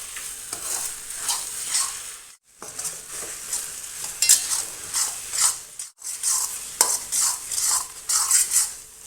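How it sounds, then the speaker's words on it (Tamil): A mango rice mixture is stirred and sautéed in a hot pan, with repeated scraping strokes and a steady sizzle that pause briefly twice, close and fairly loud with no talking. "இப்போ நம்ம இதை கிளறிக்கலாம். நல்லா வதங்கட்டும்."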